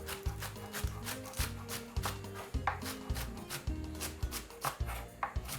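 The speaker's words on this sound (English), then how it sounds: "I'm just cutting up my spring onion" Knife chopping spring onion on a cutting board in a home kitchen, a quick run of crisp, close, evenly spaced taps with a steady rhythm and no talk.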